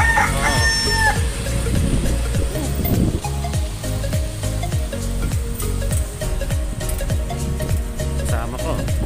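Roosters crowing at six in the morning near Bustos Dam Eco Park, heard against a loud, busy background with a steady pulsing beat and other noise throughout.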